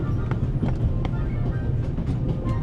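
Steady low rumble and rattle of a train interior on the Orient Express, a continuous rolling din with faint periodic clicks of wheels over rail joints, running loud throughout.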